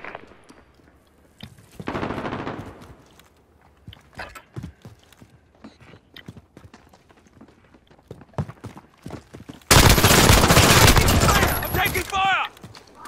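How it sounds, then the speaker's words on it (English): Gunfire in the video game Modern Warfare, with a P90 in use: scattered single shots and clicks, then a loud sustained burst of rapid automatic fire near the end, with game voices over radio. "I'm taking fire!"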